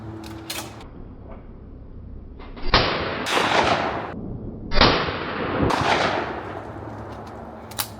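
28 gauge shotgun fired at a sporting clays course outdoors, a few sharp reports spread across several seconds, some near and loud, with echoing tails.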